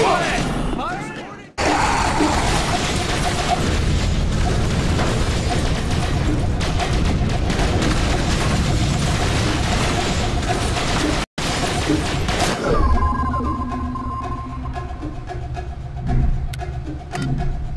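Bombardment explosions and gunfire in the shooter game The Bureau, a dense continuous rumble of blasts and shots with two brief cutouts, voices shouting over the battle.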